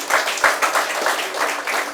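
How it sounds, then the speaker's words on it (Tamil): Audience applause at a Tamil book launch: a steady wash of many hands clapping at once, fairly loud and continuous for a couple of seconds. "அதுக்கே ஒரு சிறந்த கைத்தட்டல் நம்ம கொடுக்கலாம்"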